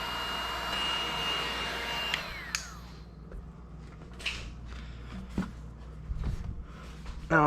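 A heat gun warms 3M adhesive tape during a Nissan 350Z roof spoiler install. Its steady, loud blowing whir runs for about two and a half seconds, then cuts off, leaving quiet handling noises and faint knocks.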